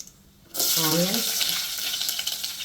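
Oil for a tomato rasam tempering crackles and hisses loudly as red chillies, seasoning seeds and onions hit the hot pan, the sizzle bursting in suddenly and staying busy and close.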